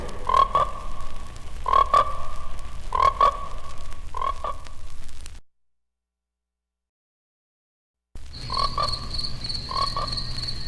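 Frogs croak in a 1972 horror movie radio spot, giving rhythmic, evenly spaced croaks close up and loud. The croaking cuts to silence for a few seconds, then returns with a higher chirping call layered over it.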